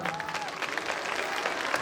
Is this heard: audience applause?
yes